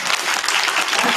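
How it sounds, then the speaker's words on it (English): Audience applause at a meeting, a dense burst of many hands clapping, close and fairly loud, steady for the whole moment with no talk. "Give her a round of applause"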